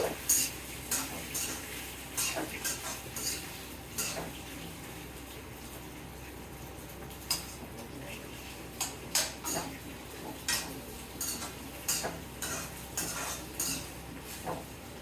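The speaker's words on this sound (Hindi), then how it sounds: "थोड़ा सा इसको भूनूंगी मैं" Food roasts in a pan on a home stove, with a utensil repeatedly scraping and clinking against the pan in an irregular stirring rhythm over a steady, soft sizzling hiss.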